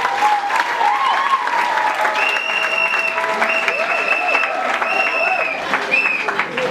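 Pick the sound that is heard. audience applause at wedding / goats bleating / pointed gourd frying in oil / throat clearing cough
audience applause at wedding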